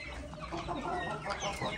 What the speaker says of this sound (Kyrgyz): Адлерди, жерсилери кандай тооктор экен.